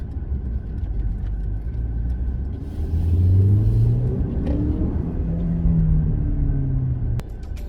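A 2020 Mercedes GLE 350 in sport mode accelerating from inside the cabin, with a low engine drone that climbs in pitch and drops back as the gearbox shifts several times, steady road rumble underneath, no speech.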